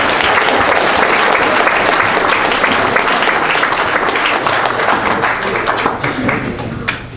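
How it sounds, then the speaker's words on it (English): A crowd at a baseball awards banquet claps loudly and steadily for several seconds, with dense overlapping hand claps close by that taper slightly toward the end. "Let's give this team one round of applause again."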